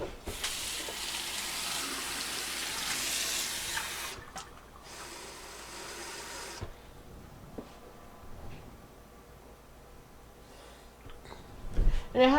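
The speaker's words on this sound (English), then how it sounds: "I'm going to turn my hot water on because I need 1 cup of warm water." Warm tap water runs from a kitchen faucet with a steady broadband hiss for about four seconds, stops, then flows again briefly, leaving quieter room sounds and small clinks afterward.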